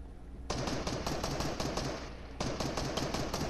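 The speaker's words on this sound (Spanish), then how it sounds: "este me está disparando" Sustained bursts of automatic gunfire hit close to the player in Fortnite, loud and rapid. The first half-second is quieter, and there is a short pause before the firing resumes.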